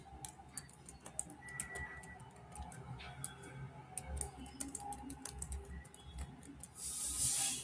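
Typing on a computer keyboard during Python coding, with quick, irregular clicks and taps close by, over a quiet room with faint birds outside and a brief spoken word.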